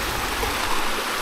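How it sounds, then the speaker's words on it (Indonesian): A mountain river stream flowing down from Mount Mahameru through forest makes a steady, dense rushing and splashing of water, loud and close, with no voices. "Aliran sungai dari atas sana ya, dari gunung, Gunung Mahameru."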